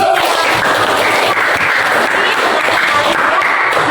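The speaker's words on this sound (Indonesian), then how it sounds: "Kasih tepuk tangan dulu" A classroom of students claps together, a continuous wash of fairly loud, even applause filling the room without pause.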